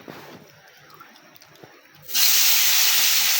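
Koi fish hit hot oil in a wok over a strong blue village stove flame, bursting into a loud, steady sizzling hiss that starts abruptly partway through after quieter kitchen sounds.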